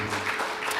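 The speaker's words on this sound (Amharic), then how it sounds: "በደንብ አጨብጭቡ።" Congregation at a church testimony gathering applauding, a soft, fairly distant patter of many hands clapping steadily for under a second.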